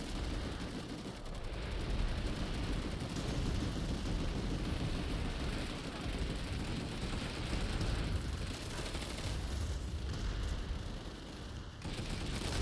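Gauss Saw machine gun fire in Planetside 2 on PS5, a dense, continuous chatter of rapid shots over battle noise and rumble, sustained and fairly loud throughout with brief dips, no voices.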